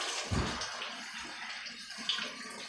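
Saved garden seeds are rinsed under running water, a soft, quiet splashing wash with a couple of brief louder gurgles, close and faint, with no talk.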